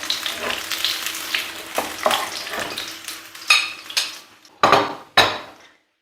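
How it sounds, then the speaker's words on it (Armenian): Meat cutlets sizzle and crackle in a frying pan. Sharp clinks and scrapes of a utensil against the pan come in bursts, and the last ones fade into quiet. "կոտլետներ տապակեցի"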